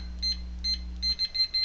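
A series of short electronic beeps from a Rosslare standalone access keypad reader being programmed, first three spaced singles, then a quicker cluster, over a low steady hum.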